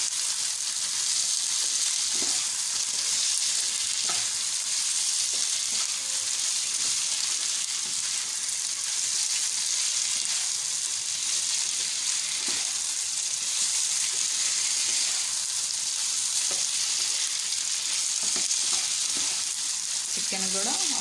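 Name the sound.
chicken and onions frying in a pan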